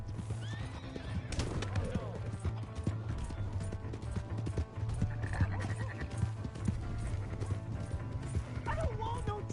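Horse in Red Dead Redemption 2 clopping hooves and whinnying amid game action, with shouting voices and other effects layered over a dense, continuous mix.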